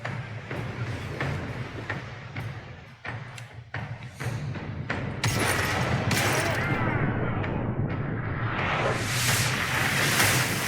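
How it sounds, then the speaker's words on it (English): Ship's port cannons firing in a naval battle in the video game Pillars of Eternity II: Deadfire, a cluster of thumps and booms building into a dense, sustained barrage with rushing noise over continuous game sound. "fire the port cannons again"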